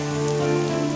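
Steady rain falls on a surface in a continuous even wash, close and fairly loud, with no voices.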